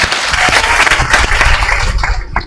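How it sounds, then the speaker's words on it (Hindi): An audience at a coaching academy gives loud, dense applause for a selected student, many hands clapping steadily and close before tapering off at the end. "एक बार इनके लिए भी जोर से ताली होना चाहिए।"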